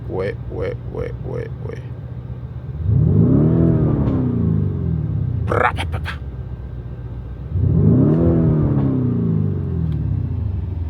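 A sports car engine in Corsa drive mode revved twice, each a loud close swell of rumbling tone that rises and falls, with people talking between the revs.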